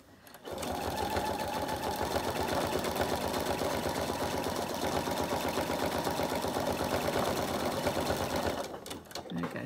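A sewing machine stitching free-machine embroidery, running steadily and loud with a fast rhythmic needle chatter from start to near the end, stopping briefly at the close.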